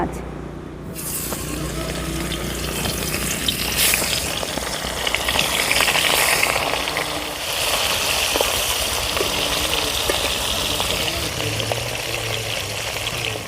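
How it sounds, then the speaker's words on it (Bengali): Loud continuous sizzling and crackling of Bhola fish frying in hot oil, close up, with a brief rattling clatter partway through. "তেল গরম হয়ে গেছে এবার দিয়ে দেব ভোলা"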